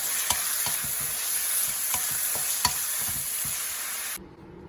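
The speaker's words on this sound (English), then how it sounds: "So do a quick stir fry. So we'll stir fry the beef." Beef stir-fries in hot oil with a dense, loud sizzle and regular scraping clicks of a spatula against the pan, then the sound drops away abruptly near the end.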